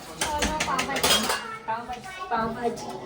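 Pots and metal utensils clink and scrape quickly and closely while pav bhaji cooks in a home kitchen, with voices chatting underneath.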